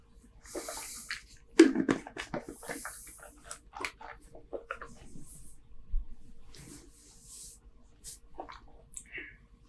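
A person takes close sips of water during a tasting of a bourbon-barrel-aged barleywine, with soft gulps, swallows and wet mouth sounds spread over about ten seconds and no talking.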